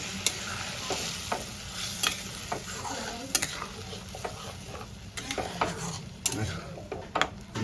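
Prawns cooking in a pan over a lowered gas flame as a coconut-water paste is stirred in, giving a steady sizzle broken by repeated sharp scrapes and clinks of a spoon against the pan, close and alone without talk.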